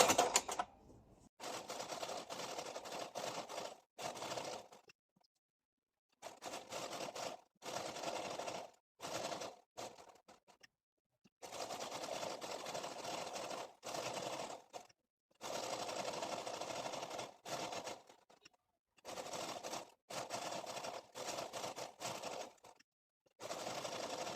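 Sewing machine stitching the seam of a garment, its fast mechanical chatter coming in repeated bursts a few seconds long, separated by short pauses, close and alone with no talk.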